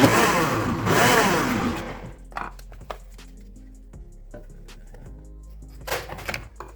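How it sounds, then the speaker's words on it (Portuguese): Kitchen blender running with cake batter for a milk cake, a loud whirring grind for about two seconds, then stopping, followed by light clinks and handling noises. "Todos esses bolos são práticos de se fazer porque é apenas no liquidificador."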